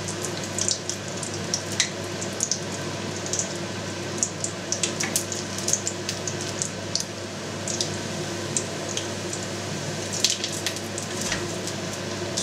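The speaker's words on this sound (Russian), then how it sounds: "чтобы было видно, как он жарится." Belyashi, homemade meat-filled pastries, fry in a pan of oil with a steady crackling sizzle and frequent sharp pops and spatters throughout, close and continuous with no talking.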